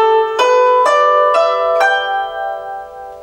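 Guzheng, a Chinese zither, plays a pentatonic scale as five distinct plucked notes about half a second apart, each ringing bright and close before fading, with no voices over it.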